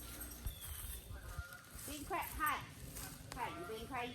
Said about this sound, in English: Oh, you hear the geese?